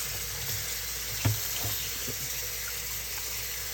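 Eddo taro leaves are rinsed under a running tap, giving a steady hiss of flowing water with a few soft knocks and splashes as they are handled.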